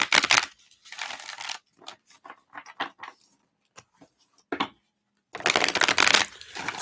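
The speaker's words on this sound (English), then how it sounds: "Let's give these a shuffle here." Tarot cards are shuffled up close in several crisp riffling bursts, with short gaps and quick flicks between them.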